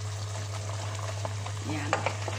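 Chicken kaldereta in coconut milk with tomato paste being stirred in a pan, soft scraping strokes and a light sizzle over a steady low hum, close and moderately quiet with no talk.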